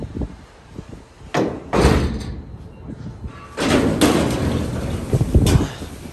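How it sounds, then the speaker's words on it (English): Vintage Dover hydraulic freight elevator doors being closed, heavy metal doors in a tower building that slam and thud in several loud bursts with rumbling slides between them, close by. "They actually greased up the elevator doors."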